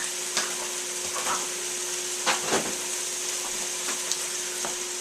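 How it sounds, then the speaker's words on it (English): Pasta sauce being stirred into spaghetti in a bowl: soft, wet, irregular scraping and squelching strokes, quiet and close, over a faint steady hum. "one thing I like to do is just mix up about another cup of my pasta sauce"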